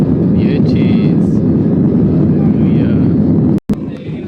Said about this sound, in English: Here we take speed for takeoff.